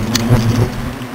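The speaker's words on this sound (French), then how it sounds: "le frelon il m'attaque pas au niveau des jambes" Asian hornet buzzing loudly and close while attacking a beekeeper, a steady droning hum with brief sharper whirring bursts, heard alone.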